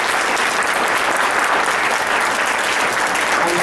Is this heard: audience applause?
yes